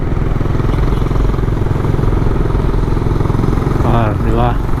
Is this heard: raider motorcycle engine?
yes